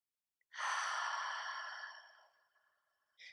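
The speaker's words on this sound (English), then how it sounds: "and take a deep breath." A single deep, slow breath taken during an EFT tapping meditation, heard as a long, close, breathy exhale that fades out, followed by a short inhale.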